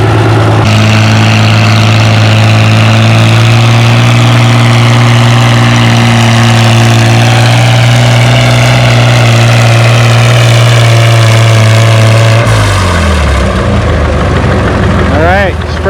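A Farmall 460 tractor engine roars loud and close as it pulls the sled at a tractor pull, a steady heavy drone that drops and fades near the end, with commentary over it.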